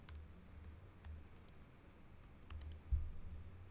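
Faint computer keyboard typing as a name is entered, a few soft, close key taps in short bursts over a low steady hum, with one slightly louder knock near the end.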